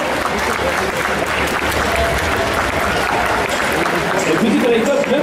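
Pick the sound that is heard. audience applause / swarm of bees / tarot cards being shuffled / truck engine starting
audience applause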